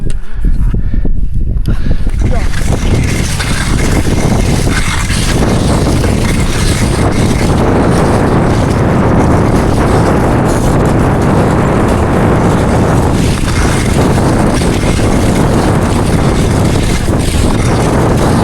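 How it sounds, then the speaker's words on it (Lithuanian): A steady wind blows from one side, roaring across the microphone as loud, continuous, broadband rumbling that barely changes for the whole stretch. "Tolygus vėjas, jo, iš vienos pusės."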